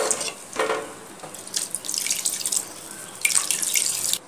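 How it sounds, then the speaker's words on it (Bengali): Water pours from a bowl into a simmering Bengali fish curry with potato and raw banana, in a few close splashing bursts with short pauses between pours. "সে বাটিটা দিয়ে জল দিয়ে দিচ্ছি"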